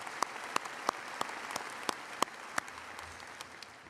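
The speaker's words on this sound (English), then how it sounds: "Let's give them a round of applause as well" Scattered, sparse applause from a commencement audience for a student brass ensemble, a few distinct claps spaced out at a steady pace and moderately distant, fading toward the end.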